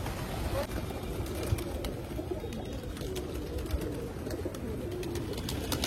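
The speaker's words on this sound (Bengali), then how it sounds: "এক ঝাঁক পায়রা, এক ঝাঁক।" A flock of pigeons coos in a steady, continuous murmur close by, with a voice talking over the birds throughout.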